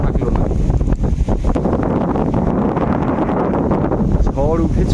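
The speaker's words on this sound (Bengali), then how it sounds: "ঝড় উঠেছে, বাউল বাতাস," Strong stormy wind by a river in the Sundarbans buffets the microphone with a loud, continuous low roar and gusts, and a voice is briefly audible beneath it near the end.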